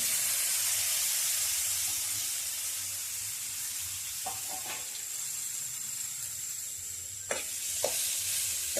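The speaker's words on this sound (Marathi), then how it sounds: "त्याच्यामध्ये आता आपल्याला जो उकडलेला पोकळा होता तो टाकून घ्यायचा" Boiled red amaranth leaves hitting a mustard-seed and turmeric tempering in a pan, giving a soft continuous sizzle and steam hiss, with a few sharp stirring clicks and scrapes toward the end.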